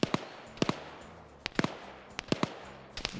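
Shots ring out in an OFCRA PvP military game match, Sri Lanka police against criminals: sharp, irregular gunfire cracks, some single and some in quick pairs, over a quiet background.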